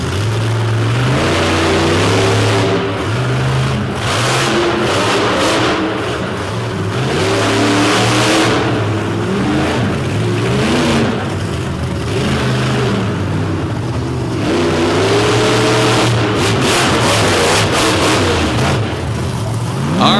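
A demolition derby car engine at Destruction in Madison roars and surges as the driver repeatedly gets on and off the throttle, loud sustained revving rising and dipping in waves for a long stretch, with no talk.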